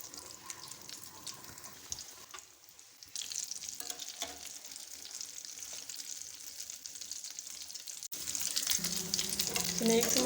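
Potato vegetable snacks deep frying in oil, a continuous bubbling sizzle with occasional clinks, growing louder and denser toward the end, with no talking.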